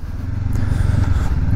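A 2019 Honda CBR500R motorcycle with a 160 mm rear tire rides along, its engine a steady close low drone throughout with no talk over it.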